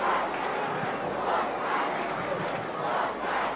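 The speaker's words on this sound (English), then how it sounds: "the applause from the Footscray supporters nearly as loud as for their five goals" Footscray supporters at a 1985 Australian football match against Essendon, a broad sustained crowd roar and applause washing through the stadium in swelling waves, with a commentator's voice faintly mixed beneath.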